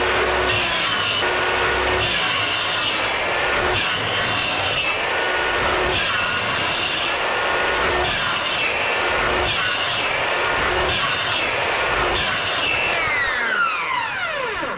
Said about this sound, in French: avec la scie circulaire, je coupe jusqu'au bout